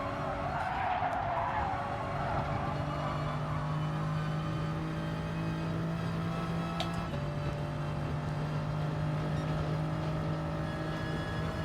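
Race cars in the Gran Turismo Sport video game run at a steady engine drone throughout, with tire skid noise near the start and a brief shift in pitch around the middle, with no voices.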